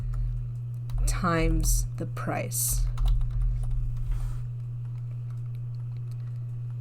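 Typing on a computer keyboard during a programming lesson on variables, with soft clicking keystrokes under a steady low hum and a brief spoken phrase.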